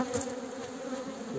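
Honey bees hum steadily at an open beehive while the first honey super is fitted, a continuous close drone with no pauses.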